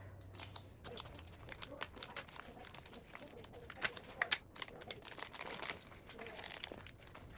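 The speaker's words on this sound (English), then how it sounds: "Next, I'm going to cut this whole pack of bacon in half." A whole pack of bacon is cut in half in a home kitchen, with crinkly plastic packaging and close, uneven snipping and crunching sounds.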